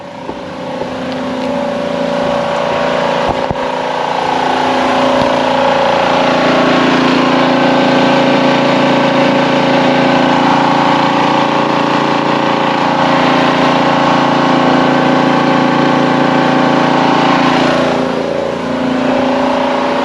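An air compressor runs continuously with a loud, droning motor hum that holds steady and shifts slightly in pitch, straining as it works, with no voices.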